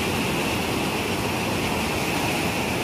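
Roaring high river at Manikarnika Ghat in Uttarkashi, a dense, steady, broadband rush of fast water, loud and close, continuous without any break.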